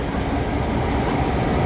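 Freight train cars rolling past a railroad crossing, a loud, dense, continuous rumble close by with no clear rhythm of wheel clicks and no voices.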